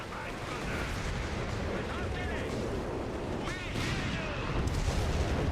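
Stuka dive bomber attack in the game Company of Heroes 3: a dense, continuous roar of explosions and gunfire rumbling loudly throughout, with a brief swell near the end and no clear talk over it.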